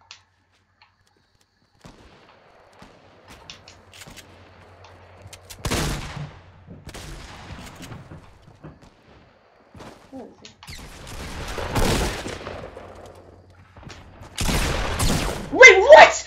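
Scattered Fortnite gunfire cracks out in short bursts and single shots, growing denser toward the end, with a player talking between the shots.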